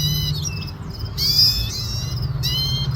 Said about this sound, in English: Here's some cute finches sitting on the fence talking to me